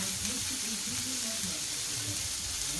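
Butter sizzling on a hot flat top griddle alongside broccoli, a steady dense crackling hiss that fills the whole moment without pause, close and fairly loud.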